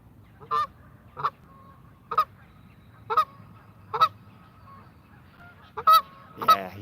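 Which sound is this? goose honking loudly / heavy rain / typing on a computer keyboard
goose honking loudly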